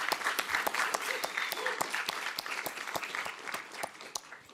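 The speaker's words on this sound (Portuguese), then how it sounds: "uma salva de palmas, por gentileza" Audience applause at the Brazil Conference, a steady burst of many hands clapping that stays strong throughout and tapers slightly toward the end, heard fairly close with no voices over it.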